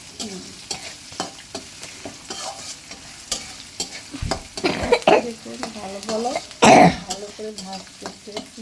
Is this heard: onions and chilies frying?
yes